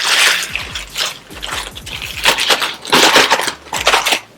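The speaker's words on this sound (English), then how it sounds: "I'm going to crush all of my Ritz crackers so that they're just crumbs." Ritz crackers are crushed into crumbs inside a Ziploc bag, giving loud, close crackling and crunching in repeated bursts, with brief pauses between squeezes.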